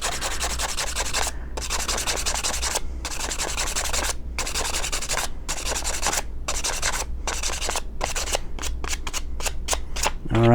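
A wooden arrow shaft is sanded with 220-grit sandpaper in a close, steady series of rasping strokes. Each stroke is separated by a brief pause, and the strokes turn quicker and shorter toward the end. No one speaks.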